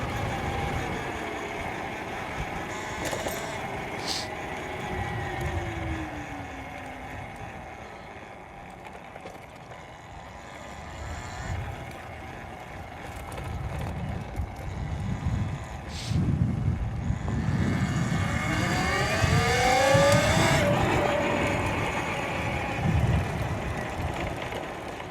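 A motorcycle is ridden to bed in new budget brake pads, its engine droning and rising and falling in pitch as it speeds up and slows down, moderately close with no talking.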